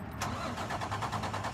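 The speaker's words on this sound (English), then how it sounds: "We start the truck right here." A 2023 Freightliner M2 106 truck engine cranks and catches, a short close burst of cranking pulses settling into a rough, pulsing idle.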